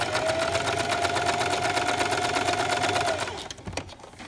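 A sewing machine stitches stretch knit fabric for a baby sleeper, a close, rapid, even whir of the needle running steadily for about three seconds before stopping, followed by a few handling clicks.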